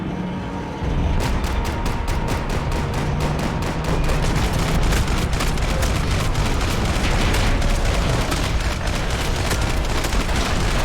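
Rapid gunfire in the Max Payne 3 video game, a dense, continuous burst of automatic shots lasting about ten seconds after a brief quiet start, loud and close with booming low-end under the rattle.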